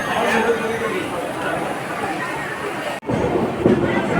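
The Kandari Express pulls out of Uluberia Junction station on the Howrah to Digha line, a steady rolling rumble under loud, continuous crowd chatter on board, with a brief dropout near the end.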